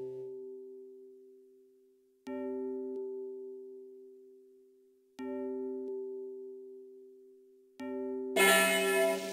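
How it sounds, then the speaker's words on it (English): A clear bell is struck three times at regular intervals of about three seconds. Each ring sustains and slowly decays, with a burst of noise near the end and no voices. "Henri, go and ring the bell again."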